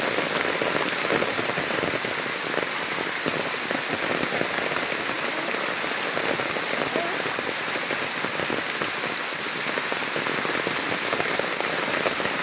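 Heavy rain pouring onto a road and surrounding surfaces, a dense, steady, close hiss of countless drops that never lets up.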